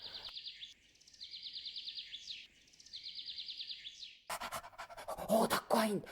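A dog pants in quick rhythmic bursts as a sound effect in a radio-theatre fairy tale, close and steady, then gives way to a louder, busier burst of chirping and rustling near the end.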